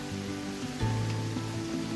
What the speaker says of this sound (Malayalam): പുറത്തേക്ക് ഇങ്ങനെ മഴ നോക്കിക്കാൻ എന്ത് രസമാണ്